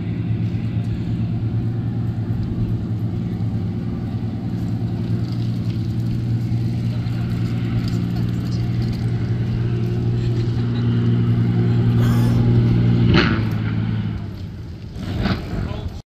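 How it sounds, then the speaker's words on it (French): A seaplane engine roars steadily during takeoff on the water in Vancouver, a loud, continuous drone that swells slightly before sharp, sudden crashing bursts near the end. "On voulait filmer un décollage d'avion"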